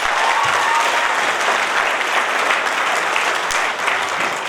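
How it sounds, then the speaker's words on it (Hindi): A group at an outdoor training session applauds loudly, dense steady clapping close by from start to end. "अपने आप के लिए ताली बजाओ जोरदार।"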